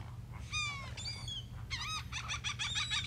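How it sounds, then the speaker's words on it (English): Several birds call in the video game Stack the States 2, a run of high, chirping and warbling bursts, some in quick repeated trills, over a steady low background hum. "Dude, look at the birds above us."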